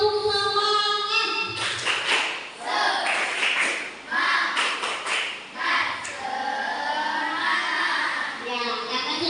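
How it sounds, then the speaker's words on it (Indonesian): Children in a classroom doing a rhythmic spirit clap, bursts of group clapping in quick patterns mixed with chanting children's voices, close and lively. "Ya, sekarang tepuk semangat."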